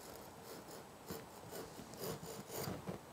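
A chisel runs along a marked cut line in wood, making a faint, steady scraping and rasping with a few light pulses as the edge drags through the grain, quiet and alone without talk.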